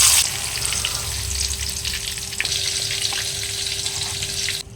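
Eggplant frying in a pan of hot oil with beans being cooked beside it makes a continuous, close sizzle with faint stirring scrapes.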